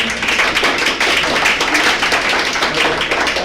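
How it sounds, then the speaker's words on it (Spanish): Audience clapping to thank an engineer after a talk on the environment: loud, close, fairly quick rhythmic claps from a modest group, sustained evenly for a few seconds. "un aplauso"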